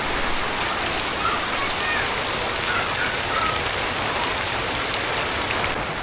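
Heavy rain pours steadily in a village, a dense, continuous hiss of drops on surfaces with no breaks, loud and close throughout.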